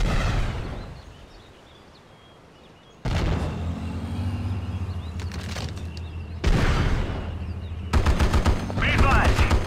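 Bursts of automatic gunfire and shots erupt in Act of War: High Treason, starting loud, dropping to a quieter stretch, then returning in dense volleys with booming impacts and brief radio-style voices.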